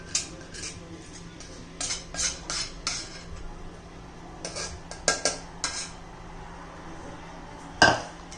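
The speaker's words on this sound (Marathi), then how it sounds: "एकदा डबा असा टॅप करायचा" A metal cake tin filled with rava cake batter is tapped against a surface, several sharp metallic clinks in uneven bursts with a louder knock near the end, no voices.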